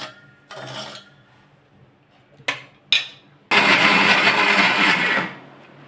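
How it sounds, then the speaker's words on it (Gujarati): A kitchen mixer crushes bael fruit pulp with a few short pulses, then one loud sustained whir of about two seconds that cuts off sharply. "હવે આપણે આ બધો માવો મિક્સરમાં ક્રશ કરી અને ગાળી લઈશું"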